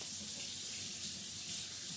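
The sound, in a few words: pouring a cup of water into the pot beside beef tenderloin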